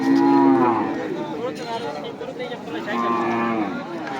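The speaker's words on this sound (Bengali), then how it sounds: "এই গরুটা অনেক সুন্দর পাকড়া একটা গরু" Cattle at a cattle market in Nilganj, Kishoreganj, give two long, loud moos close by, one at the start and another near the end, with busy market noise in between.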